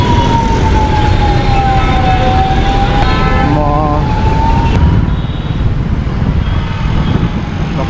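An emergency vehicle siren wails and sweeps in pitch through loud, dense traffic, riding over heavy engine rumble and road noise before fading as it passes.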